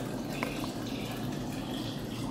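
Liquid being poured into cold water for a raw kombucha recipe, a steady soft splashing and trickling stream that runs continuously at moderate loudness with no voices.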